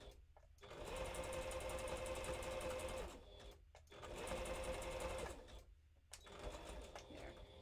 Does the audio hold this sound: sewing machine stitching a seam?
yes